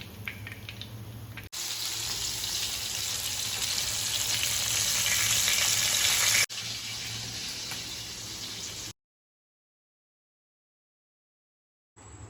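Pomfret fish fries on a flat tawa with a loud, steady sizzle that swells and then cuts abruptly. Brief tap-like water sounds come before a silent gap near the end.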